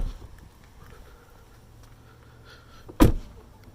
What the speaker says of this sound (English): when you close the doors, and this door here does not have it, the front one does, it is a smoother, quieter close